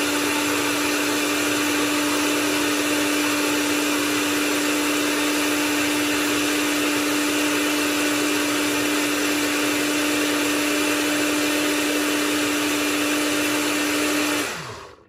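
Electric blender whirring steadily while juicing carrots and apple, a loud continuous motor drone with a high whine that runs unbroken before cutting off abruptly at the end.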